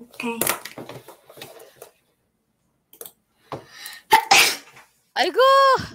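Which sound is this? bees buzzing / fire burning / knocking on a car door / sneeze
sneeze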